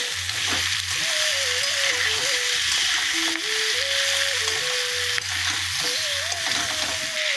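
Spices and vegetables, including capsicum, sautéing in a pan for a silver carp curry with potato and taro: continuous sizzling with repeated scraping stirs, a faint tonal hum running underneath, no talking.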